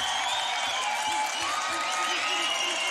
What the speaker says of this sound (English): My boy got a standing ovation.